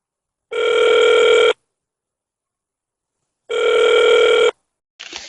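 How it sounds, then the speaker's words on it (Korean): A telephone line rings back while a call is connected during a broadcast. Two loud, even one-second electronic ring tones are separated by a two-second pause, and a brief click follows the second ring. "장경욱 변호사님 전화 연결해서 이야기 나눠보도록 하겠습니다"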